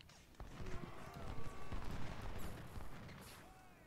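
Artillery and massed musket gunfire in the Civil War strategy game Ultimate General: Civil War, a dense ongoing crackle of shots and dull booms at moderate distance, with faint speech mixed in.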